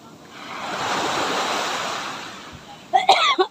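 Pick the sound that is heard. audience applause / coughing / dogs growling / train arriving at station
coughing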